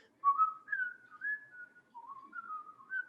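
A person whistles a sweet, wavering refrain of sustained, sliding notes, close and soft, with no other sounds around it.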